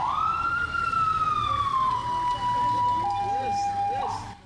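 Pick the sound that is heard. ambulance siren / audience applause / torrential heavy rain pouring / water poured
ambulance siren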